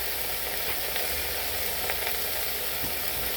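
Pot roast beef sears in a hot pan, giving a steady, loud, even sizzle that runs throughout with a few faint stirring bumps and no talking.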